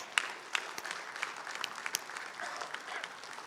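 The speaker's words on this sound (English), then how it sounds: "So let us give them a round of applause." A round of applause from the audience at a national integrity and security session, steady scattered clapping across the whole stretch at moderate distance, with no voices over it.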